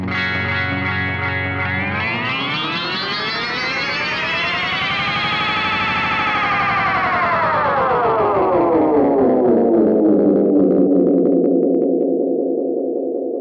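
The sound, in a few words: G chord through BOSS RE-202 Space Echo, natural mode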